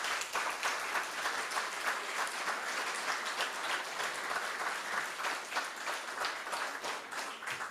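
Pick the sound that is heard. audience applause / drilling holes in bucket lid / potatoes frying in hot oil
audience applause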